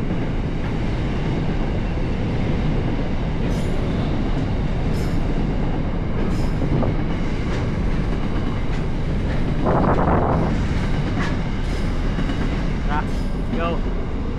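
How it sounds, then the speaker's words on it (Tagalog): A long cargo train rolls past near a fuel depot in Nhill, Victoria, a steady loud rumble of rail cars with clicking wheels and faint squeals, while people talk over it throughout. "Yan, may tren, no? Cargo train."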